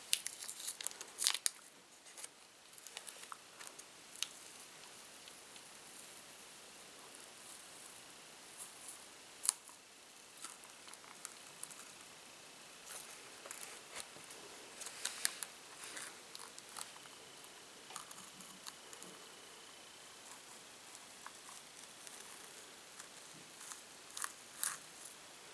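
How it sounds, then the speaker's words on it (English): Tape peels slowly off a high heel shoe painted with nail polish, a faint, close crackle of scattered sticky rips and crinkles that runs on unevenly for a long stretch with no voices. "So let's go ahead and remove the tape."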